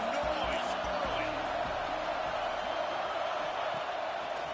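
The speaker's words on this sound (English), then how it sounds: "This crowd bringing the energy and noise early." Stadium crowd roar from an NCAA college football video game with Texas playing, a steady loud wash of cheering and noise filling the whole stretch.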